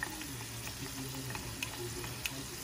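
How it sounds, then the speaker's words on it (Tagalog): Potatoes frying in a pan for a Filipino beef steak dish, a steady close sizzle with faint crackles and occasional scraping of a utensil, no talk. "piniprito ko yung patatas na ilalagay ko sa beef para hindi siya malansa"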